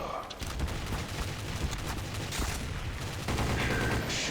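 Counter-Strike: Source gunfight with dense bursts of rapid weapon fire and crackling shots, loud and continuous with a heavier stretch near the end.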